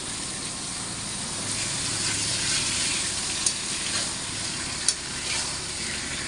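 Steady oily sizzle of frying in a pan, likely spiced ingredients being fried for a fish curry, holding an even broad hiss throughout with a couple of brief sharp pops near the end and no talk.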